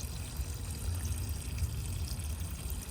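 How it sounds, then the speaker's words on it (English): Fresh water draining out of a Swift Voyager 494 campervan's drain tap, a steady low gushing trickle heard close by, continuous and without talk. "So if you twist the handle around, you'll see that all the water's draining out."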